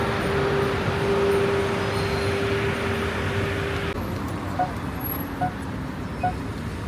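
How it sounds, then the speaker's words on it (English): Rush hour traffic in downtown Lanzhou makes a steady roadway roar of passing cars and heavier vehicles, with a few faint higher tones and clicks over the constant din. "Rush hour traffic downtown Lanzhou."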